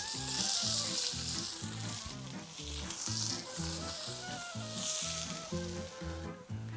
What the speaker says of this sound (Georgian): ჩემი დაჭრილები ამემგან ჩავყარე უკვე.